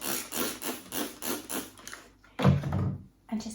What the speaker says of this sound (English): just give my machine a bit of a wipe